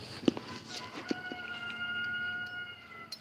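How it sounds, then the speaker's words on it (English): A rooster crows in the distance in an outdoor park, faint and brief, with a few sharp knocks and a steady background hum. "You guys hear that rooster?"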